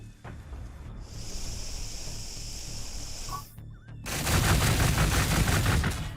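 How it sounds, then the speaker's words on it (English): Gunfire in the Warhammer 40,000 Gladius strategy game, Tyranid campaign: a steady hissing, crackling bed gives way to a louder, dense burst of rapid shots over the final two seconds, with no talk. "We get the Overwatch shot in first."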